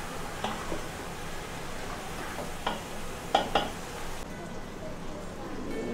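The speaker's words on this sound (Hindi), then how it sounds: "अब इसको थोड़ा सा हम भून लेंगे इसी मसाले के अंदर" Goat meat being fried in a thick masala in a pot, a soft sizzle under a few sharp spoon scrapes and clinks against the metal, with a voice faintly present.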